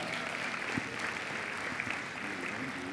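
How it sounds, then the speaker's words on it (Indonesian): An audience at the AAJI Top Agent Awards ceremony gives a sustained round of applause, a soft, steady patter of many hands heard at a distance in a large hall. "Tepuk tangan untuk Anda."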